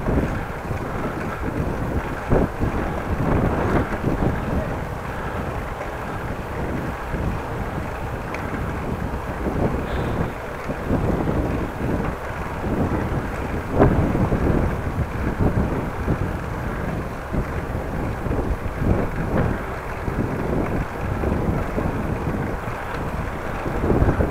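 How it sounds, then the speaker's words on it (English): Steady outdoor wind buffets the microphone on a warm day, a loud, continuous rushing with mild gusty pulses throughout and no voices. "Well, it's warm, but a little bit of wind."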